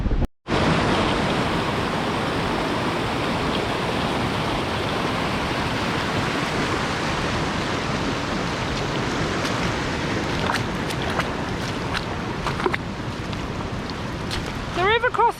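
Flooded river water roars at a hiking crossing during a hail and thunderstorm, a dense, loud, continuous rush close by, with a brief gap near the start and a few faint higher sounds near the end.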